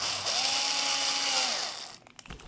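A power drill whines steadily at high speed for about a second and a half while drilling out RC car parts, then winds down into a few clicks and taps; close and alone.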